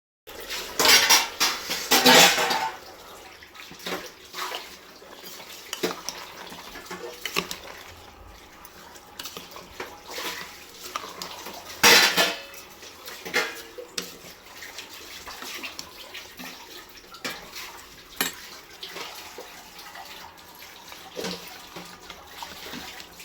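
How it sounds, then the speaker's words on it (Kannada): Dishes and pots washed by hand under running water, with clattering clinks of metal and steel in repeated bursts over a steady tap stream, close and fairly loud. "ಇಲ್ಲಿ ನೋಡಿ, ಸೆಕೆಂಡ್ ರೌಂಡ್ ಪಾತ್ರೆ ತೊಳಿತಾ ಇದ್ದೀನಿ."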